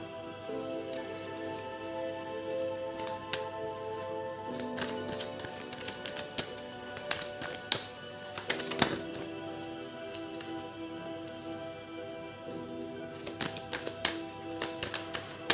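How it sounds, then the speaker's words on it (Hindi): Tarot cards being shuffled, a run of light tapping and flicking card sounds with occasional sharper snaps, close and fairly quiet, with no speech. "जस्ट मिनट, हम दोबारा शफल करेंगे।"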